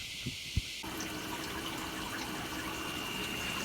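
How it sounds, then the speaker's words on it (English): A sump pump cavitates while pumping water out of a wooden ketch, a steady gushing, churning water rush after two brief knocks at the start, continuous and close. "Right now you can see the sump pump hose bouncing back and forth, which means it's cavitating."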